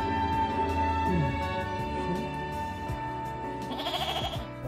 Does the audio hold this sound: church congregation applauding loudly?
no